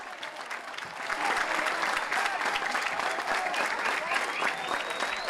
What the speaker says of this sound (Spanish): Esos aplausos son para Aranda